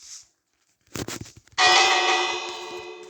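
A few clanking impacts give way to a single loud, bright bell strike in a video game, and its metallic tone rings out and slowly decays.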